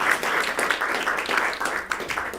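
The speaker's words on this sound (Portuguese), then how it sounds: "Aplauda o Senhor então," A church congregation applauds during a Sunday service, dense continuous clapping holding steady throughout at moderate level with no clear speech.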